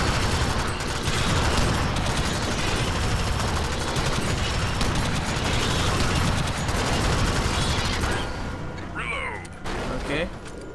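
Gunfire in the Alien Swarm co-op shooter, a dense continuous barrage of shots and mechanical clatter filling most of the clip before dropping away near the end, with voices talking over it.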